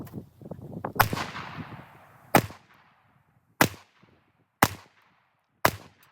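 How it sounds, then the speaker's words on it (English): Five sharp, loud 9mm pistol shots from an RIA 5.0 firing Grind Hard 115-grain rounds, spaced about a second apart, each a crisp crack with a short echoing tail at an outdoor range. "There's the 5 rounds with the grind hard ammunition, 115 grain ammo."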